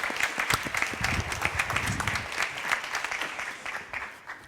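An audience breaks into sustained applause, dense clapping that stays steady and fairly loud throughout and rolls off slightly at the end as a panel guest is welcomed on stage.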